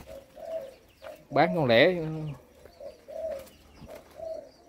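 Caged turtle doves coo in short, soft repeated calls, with one louder, closer coo in the middle, while a person speaks briefly nearby.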